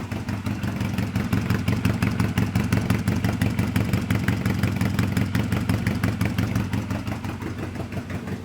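A 1997 motorcycle engine idles on choke while warming up, a steady rapid pulsing thump recorded close to the exhaust pipe, even and unbroken throughout with no talking.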